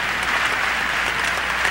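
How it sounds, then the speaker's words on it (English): Loud, dense crowd applause fills the Apollo Theatre in New York during a 1995 benefit event, an even wall of many clapping hands with no pause or talk. "Let's give them a round of applause."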